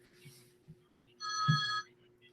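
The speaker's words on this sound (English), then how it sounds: "there's a loud ringing." A telephone rings loudly with a single bright electronic trill lasting about half a second, coming in after a quiet stretch with faint background noise.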